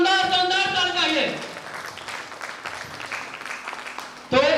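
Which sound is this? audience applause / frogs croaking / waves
audience applause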